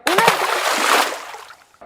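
Water splashes onto a child's face, thrown by a hummingbird in a Mexican fairy tale, a short close wet splatter and slosh lasting under two seconds.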